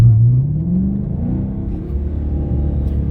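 A Hemi V8 car with 3.90 gears cruises steadily in 7th gear at about 42 mph in 4-cylinder mode, giving a continuous low, even engine rumble with a slight rising whine early on and no talk.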